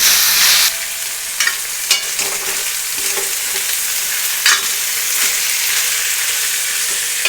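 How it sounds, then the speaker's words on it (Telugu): Tomato and green peas frying in a pan for an aloo (potato) and pea curry give off a loud, steady sizzle, broken by a few scraping stirs close up, with no talk. "వేగిన తర్వాత టమాటో వేసుకొని వేగాలి."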